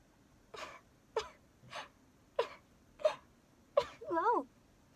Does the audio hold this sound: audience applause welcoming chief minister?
no